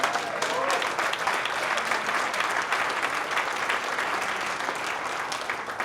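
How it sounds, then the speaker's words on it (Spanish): A congregation in a Nazarene church applauds during a sermon, a loud sustained wash of clapping hands from the whole room that holds steady throughout. "Denle un aplauso al Señor."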